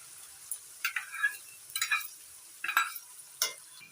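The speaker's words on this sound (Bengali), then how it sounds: "এবার মশলাটা ভালো করে মিশিয়ে কষিয়ে নিচ্ছি।" A spice paste of cumin, coriander, green chilli and pepper cooks in a pan with ginger and tomato, giving a faint sizzle under several quick, light stirring scrapes close by.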